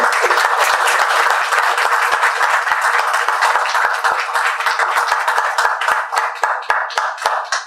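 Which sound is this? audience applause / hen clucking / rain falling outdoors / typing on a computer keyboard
audience applause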